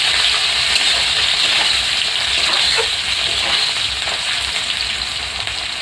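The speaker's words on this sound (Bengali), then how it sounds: "একটু পেঁয়াজগুলো হালকা বাদামি কালার করে ভেজে নেব।" Onions frying in hot oil in a pan until light brown, a loud, steady, close-up sizzle with crackling that continues without pause.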